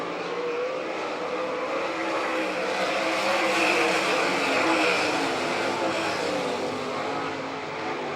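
Dirt track race cars, All Stars sprint cars racing NCRA cars at Doniphan, Nebraska, roar steadily as a dense, continuous pack, the engine drone holding loud and constant throughout with no voice on top.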